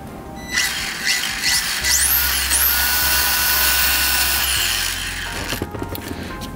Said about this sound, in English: So that's the high-tech servo that I have. It's a little slow, but it's torquey.